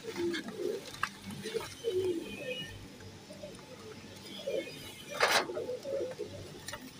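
Teddy pigeons of the salary breed coo softly in a loft, low rounded calls repeating near and fairly quiet, with some soft voices and a brief rustle in the background.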